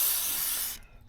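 An aerosol spray can hisses steadily in one close, loud burst for most of a second, coating horse trailer wiring and the fuse panel, then cuts off.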